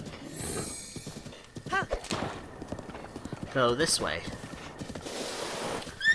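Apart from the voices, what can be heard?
horse hooves galloping in video game Zelda Breath of the Wild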